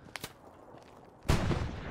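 Gunfire in the WWII shooter game Hell Let Loose: two sharp shots early, then a loud burst of heavy rumbling fire and blasts that continues through the second half.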